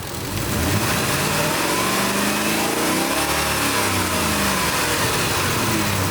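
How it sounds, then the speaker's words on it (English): A car engine revs up steadily during a fuel pressure test, rising in pitch and holding a loud, sustained roar, with no one speaking. "So let's go ahead and raise the RPM."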